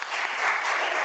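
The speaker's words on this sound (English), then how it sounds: "could we have a round of applause for Dr." An audience at the CIPR annual meeting applauds Dr. Palermo with a brief, steady burst of clapping from many hands, dense and even throughout.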